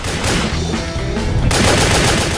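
Submachine gun fire in the video game WET, a rapid sustained automatic burst of loud close shots that shifts partway through into a brighter, denser volley, with no talking.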